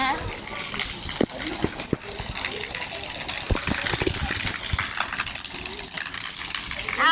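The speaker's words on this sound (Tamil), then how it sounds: "தண்ணி எல்லாம் மேலே ஃபுல்லாக கீழே ஊற்றிட்டு இருக்கு." Water gushes down heavily in a constant rushing roar, with occasional splashes and knocks, and a voice talks faintly beneath it.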